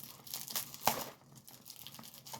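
A package wrapped in masking tape being torn and wrestled open, close up, with bursts of ripping and crinkling and one sharp tearing snap near the middle.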